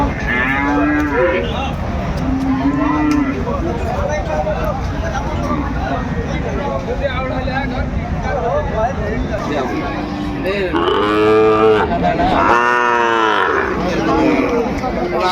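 A seven-month-old Sahiwal bull calf at a busy cattle market moos several times, the calls loud and close, with the longest near the end, over a background of crowd chatter and voices.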